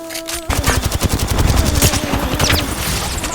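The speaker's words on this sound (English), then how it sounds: "That was a Kraber shot." Gunfire from Apex Legends, including a Kraber sniper rifle shot, comes as a sudden loud burst of rapid repeated shots that rings on through a dense, booming volley.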